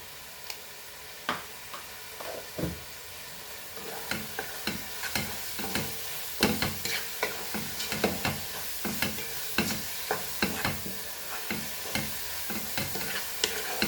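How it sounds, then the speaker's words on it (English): Masalas with hing, chilies, tomatoes and salt fried on a medium flame for Goan prawns and brinjal xec xec, a steady sizzle broken by repeated rhythmic clicks and scrapes of a spoon stirring the pan. "Fry all this very nicely."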